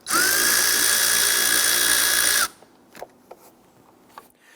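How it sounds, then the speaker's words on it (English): A power driver with a 5/16 socket spins loose the intake tube hose clamp on a 2011-2021 Jeep Grand Cherokee 3.6L V6, a loud steady whine for about two and a half seconds, then a few faint clicks. "We're going to use our 5/16 socket. Loosen and remove that."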